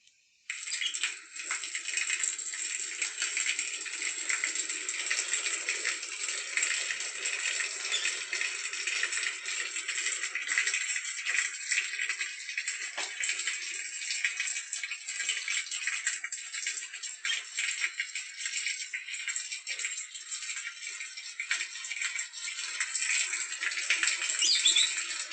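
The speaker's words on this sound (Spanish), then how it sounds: "el agua cayendo de mi manguera" Water pours steadily from a garden hose, a close, continuous hissing splash that holds even for the whole stretch without pause.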